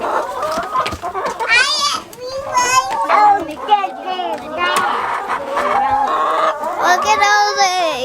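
Chickens clucking around a farm yard, with repeated bird calls over a steady background while children talk nearby throughout.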